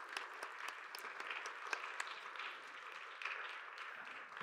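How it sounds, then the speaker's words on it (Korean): A church congregation at a Sunday young-adult worship service applauds to welcome a first-time visitor, with dense, steady clapping that stays moderately loud throughout and has no voices over it. "박수로 환영하도록 하겠습니다."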